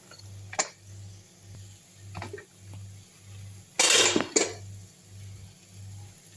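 A pressure cooker holding cooked beans is handled and opened, giving a few sharp metallic clinks and knocks, with one louder clattering burst near the middle, over a quiet pulsing kitchen background.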